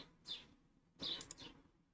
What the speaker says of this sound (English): you can really hear the birds as well